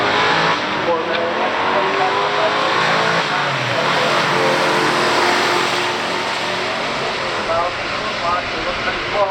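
Drag race between a 1973 Corvette with a 454 big-block and Turbo 400 transmission and a 1969 Pontiac GTO Ram Air 400, engines roaring loud and steady throughout a stock drag race, with announcer speech over the noise.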